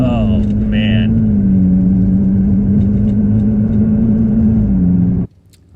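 A Nissan GT-R being driven, its engine holding a loud, steady low drone for about five seconds before cutting off abruptly.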